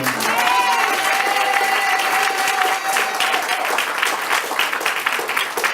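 A church congregation claps loudly and continuously to acclaim the Lord, dense close applause with scattered cheers and a sustained vocal cry riding over it.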